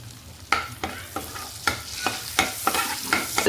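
Whole cardamom, cinnamon pieces and cloves sizzle in hot oil for a butter chicken dish. A steady soft fry runs throughout, broken by regular sharp clinks and scrapes as the spices are stirred in the pan. No one speaks.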